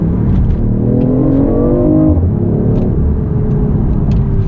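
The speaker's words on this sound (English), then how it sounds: "give it a little bit of gas in sport mode so you can hear the engine one more time" A BMW i8 hybrid sports car engine revs up loudly and steadily in sport mode, its pitch climbing then dropping briefly before settling into a sustained, powerful drone.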